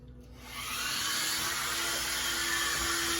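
An air blower whooshes up and holds a steady hissing roar with a faint tonal whine, blowing paint across a wooden clock face close by.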